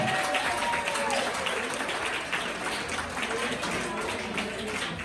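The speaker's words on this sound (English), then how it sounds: "give all the staff here at Shindigz a huge round of applause" An audience at a stand-up comedy open mic night at Shindigz applauds the staff, a steady wash of clapping mixed with crowd voices and chatter throughout.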